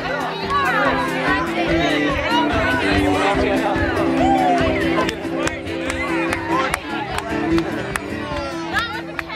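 Concert audience in a room chatting and greeting their neighbours, a dense hubbub of many overlapping voices and laughter with scattered claps over a sustained droning instrumental backing.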